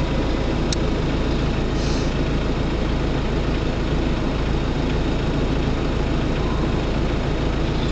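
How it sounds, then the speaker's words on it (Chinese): A tractor engine runs on a remote road in Qinghai, a loud, steady, low rumbling drone that holds without pause throughout, with no voices. "拖拉机都出来了"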